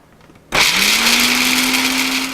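A food processor grinding almonds starts abruptly with a loud whir that quickly settles into a steady high-pitched motor drone with gritty noise, very close and alone.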